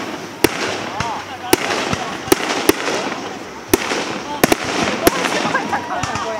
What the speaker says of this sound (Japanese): ほら花火が落ちてくるみたいですよ